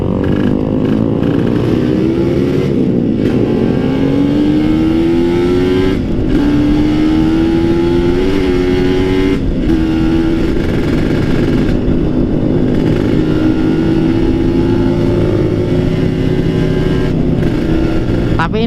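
A Kawasaki Ninja two-stroke motorcycle engine revs while downshifting and engine braking on an uphill climb, a loud, continuous buzzing drone whose pitch rises and steps through the gears without a break.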